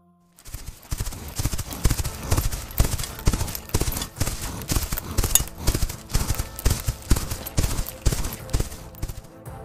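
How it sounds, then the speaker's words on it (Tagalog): A horse gallops hard, ridden in pursuit, its hoofbeats pounding in a fast, steady rhythm that stays loud and close throughout. "mabilis niya noong pinatakbo ang sinasakyan niyang kabayo para habulin ang dalawa"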